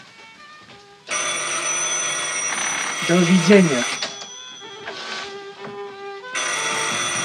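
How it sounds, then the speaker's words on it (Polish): An old telephone bell rings loudly in an apartment in Wojciech Has's film Pętla (The Noose) at the end of a conversation with a tailor. The harsh, sustained ringing comes in long bursts with pauses between them, and someone speaks briefly during the ringing. "Pod koniec rozmowy z krawcem głośno rozbrzmiewa dzwonek telefonu."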